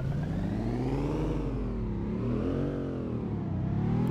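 Audi 80 B2 with a 1.8-litre four-cylinder engine revving in the City Car Driving game, a steady loud engine drone rising and falling in pitch across several revs, with no talk.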